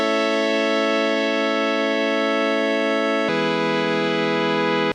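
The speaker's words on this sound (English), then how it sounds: "take boring chords that sound like" Simple, plain chord progression held as long sustained synth or keyboard chords, one chord ringing for about three seconds before changing to another, clean and alone with no voices.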